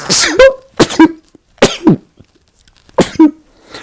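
Three or four sharp, explosive sneezes or coughs in quick succession, loud and close, separated by brief silences.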